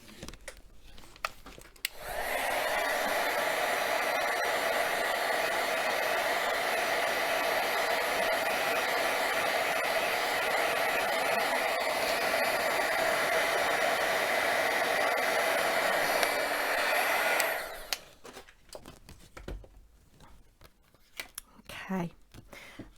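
A hair dryer blows steadily on a handmade Christmas card, a loud continuous whir running for about fifteen seconds before switching off, followed by light handling sounds.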